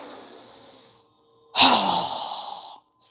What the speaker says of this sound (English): exhale with a strong breath as we quickly lower our arms and hands down, exhaling through our mouth